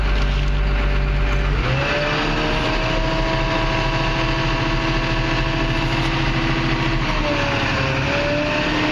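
Komatsu D61 bulldozer engine runs steadily at medium RPM with hydraulics engaged, a continuous close, loud diesel drone whose pitch shifts slightly around two and seven seconds, with no talking.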